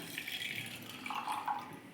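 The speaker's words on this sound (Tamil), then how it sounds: "இப்போது இந்த சோடியம் ஹைட்ராக்சைடோட கூட இந்த முப்பத்தைந்து மில்லி லிட்டர் தண்ணியும் சேர்க்குறேன்" Water poured into sodium hydroxide for homemade soap making, a quiet trickle and light splashing in a container, faint and close with a soft background hiss.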